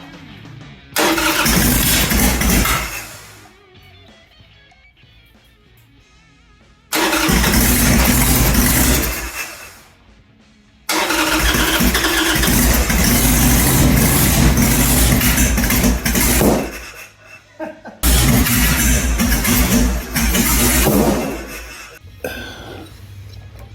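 A carbureted Harley-Davidson motorcycle engine cranks and catches four times in succession, each start running loud and close for a few seconds of rough idle before cutting out, with short quiet gaps between attempts.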